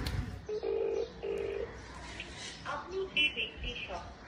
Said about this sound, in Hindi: आसिफ को कॉल करती हूँ